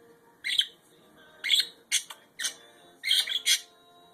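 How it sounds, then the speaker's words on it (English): A pet budgie squawks in sharp, harsh bursts, about six close calls in quick irregular succession against a quiet room. "That's Tetley making all the squawking"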